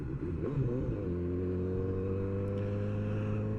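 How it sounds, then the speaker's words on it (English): A motorcycle with a loud Two Brothers aftermarket exhaust rumbles and revs briefly, then settles into a steady deep drone, with no talk. "it's got a very loud Two Brothers exhaust on it"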